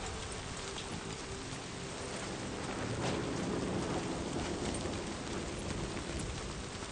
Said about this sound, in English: The rain is fucking my shit up.